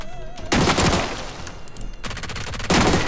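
P90 submachine gun fire in a video game: rapid automatic bursts, one long burst followed by two shorter ones, loud and close, with brief gaps between them.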